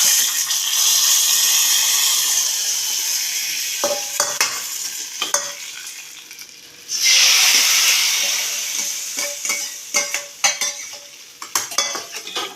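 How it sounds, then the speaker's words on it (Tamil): A pot of pumpkin sambar bubbling and sizzling on the stove, with a loud steady hiss, broken by occasional spoon clinks and stirring scrapes against the metal. "இன்னும் கொஞ்சம் கொதிக்க விட்டுக்கிடுவோம்"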